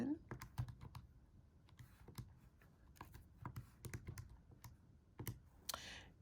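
Rapid computer keyboard or calculator keys tapped in quick, irregular bursts of sharp clicks, close and fairly quiet, with a brief pause partway through and a short rustle near the end.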